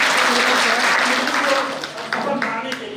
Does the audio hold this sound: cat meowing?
no